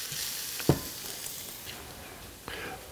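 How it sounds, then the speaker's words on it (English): Onions and garlic frying in a pan give a soft, steady sizzle, with a sharp scrape from a stir near the start and another near the end. "I'm just going to give this a stir."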